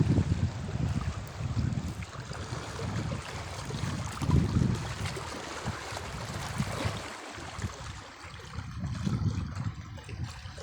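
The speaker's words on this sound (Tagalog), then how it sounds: "Medyo mahangin guys." Strong gusty wind buffets the microphone at a seashore spot during ultralight fishing at high tide, roaring in uneven surges with occasional lulls and no talk.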